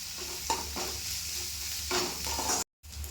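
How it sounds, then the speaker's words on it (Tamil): Onions sauté in a pan with a little salt, a steady close sizzle punctuated by repeated scraping stirs of a spoon, with a brief silent gap near the end. "வெங்காயம் பாதி அளவுக்கு வதங்கி வந்திருக்குங்க"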